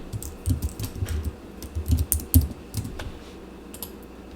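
Rapid, irregular clicking of keys on a computer keyboard as a label is typed into a COMSOL settings field. The taps are close and moderately loud, with no voice.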